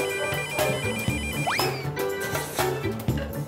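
A telephone rings in repeated electronic tones over other clatter and a brief sweeping sound, fairly loud and close, with no talk.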